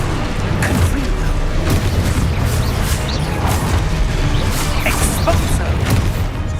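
Fiery Confringo spell explosions in the game Hogwarts Legacy, heard as repeated booming bursts and crackles in a dense, loud, continuous stream of combat noise.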